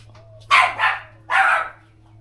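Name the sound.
dog barking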